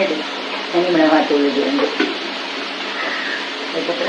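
Chopped vegetables for a brinjal and mango sambar fry and stir in a pan, a steady close sizzle with scraping stirs, while a voice talks over it in places.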